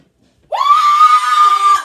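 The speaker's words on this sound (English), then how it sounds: "You guys want Haley? Go like this or scream" A single sustained high-pitched scream from an audience member cheering for a contestant at a rap battle, loud and close, lasting over a second with no talk over it.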